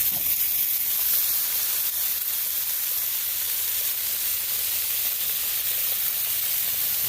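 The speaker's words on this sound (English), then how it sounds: "you know that sizzle" Italian sausage sizzles in a hot pan, a steady, loud, bright crackling hiss that carries on without a break, close up and alone with no talking.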